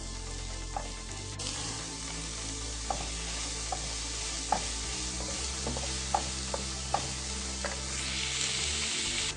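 Beef pepper roast sautéing in a pan, Kerala style, with salt added: a steady loud sizzle runs throughout, broken by sharp occasional clinks and scrapes of stirring, no voices.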